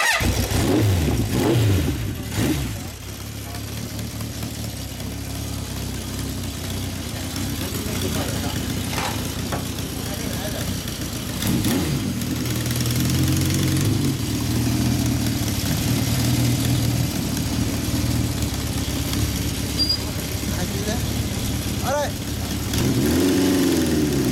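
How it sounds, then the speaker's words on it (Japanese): A 1970 Honda Dream CB750 Four K0 motorcycle engine idles with a steady low throb, rising in a few revs, while people talk nearby. "エンジンを聞かせてもらえるこれ"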